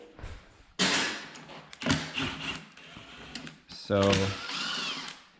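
A Torx 27 driver works bolts loose on the airbox of a BMW S1000RR motorcycle. Irregular clicks, ratcheting and metallic scraping come close up, with a louder burst near the end and someone speaking briefly.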